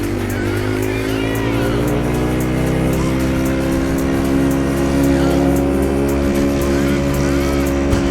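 A Yamaha R6 sport motorcycle runs at full throttle on a winding road, a loud, steady, high-pitched engine roar held throughout with a constant tone and wind rush close by.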